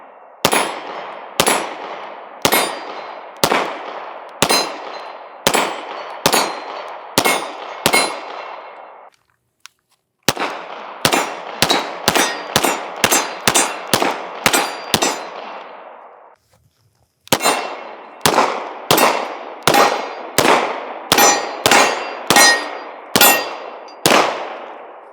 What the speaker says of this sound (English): First shots from the Yeet Cannon.